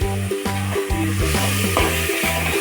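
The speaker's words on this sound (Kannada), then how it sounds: "ಟಮಾಟೆನ ಹಾಕಿ ಫ್ರೈ ಮಾಡ್ತಾಯಿದ್ದೀನಿ." Tomatoes fry in a pan, giving a continuous bright sizzle. It sits beneath louder rhythmic background music for the whole stretch, with no speech.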